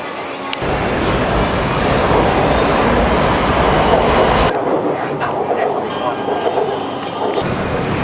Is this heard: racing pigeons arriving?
no